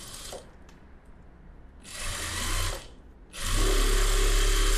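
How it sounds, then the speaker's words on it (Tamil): Sewing machine running a centre seam three-quarter inch in on front cross-stitched cup-shape work: two bursts of close, whirring stitching, a short one near two seconds and a longer, louder run from about three and a half seconds on. "கரெக்டாக முக்கால் இன்ச்சு எடுத்து விட்டுட்டு சென்டரில் ஒரு தையல் போடுங்க."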